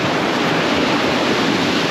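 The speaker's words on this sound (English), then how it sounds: "Like, that's a big swell." Big ocean swell surging against a jetty, a loud, continuous roar of surf and rushing water close by, with wind buffeting the microphone throughout.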